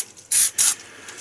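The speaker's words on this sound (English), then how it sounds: "Now I'm going to clean these out and spray them down and let them soak" Brake cleaner sprayed onto brake caliper pins on a 2014 GMC Sierra / Chevy Silverado, two short close hissing bursts in quick succession.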